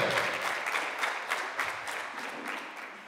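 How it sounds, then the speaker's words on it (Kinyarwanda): An audience at a church gathering claps steadily for the whole stretch, a dense, moderately distant wash of applause without clear pauses. "tumukomere amashyi"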